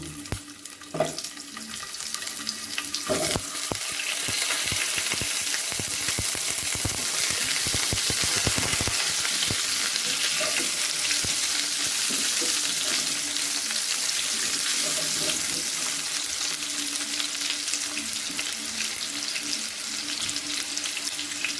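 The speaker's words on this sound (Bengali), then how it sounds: "এতে আমি আলুগুলো অ্যাড করে দেব।" Potatoes tossed into a hot pan for a Bengali broccoli and prawn dish fry with a dense, continuous close sizzle, a few clatters of utensil stirring at the start.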